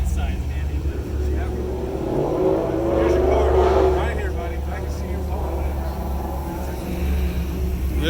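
A Lamborghini sports car engine at a cars and coffee meet in Rancho Santa Fe, a loud steady roar rising slightly in the middle as it passes nearby, with people talking over it.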